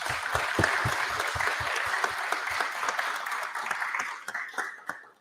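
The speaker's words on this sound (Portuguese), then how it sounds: "queria uma salva de palmas aí para todo mundo" A conference audience breaks into applause, a dense burst of clapping that holds steadily before tapering off into a few scattered claps at the end.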